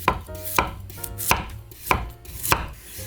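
A knife chops carrot for a buckwheat pancake on a cutting board in five or six sharp, evenly spaced thuds, each one close and crisp against a quiet background.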